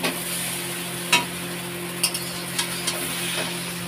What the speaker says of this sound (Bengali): সেই চাউমিনটা করছি শুধু ডিম, পেঁয়াজ, আলু দিয়েছি